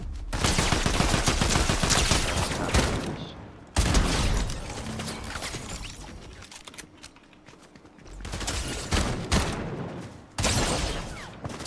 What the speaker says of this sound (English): They're shooting this way as well.